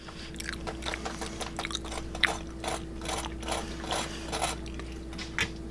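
Crispy breading on air-fried eggplant parmesan crunches in a rapid run of close, sharp crackles over a steady low hum, with no voices.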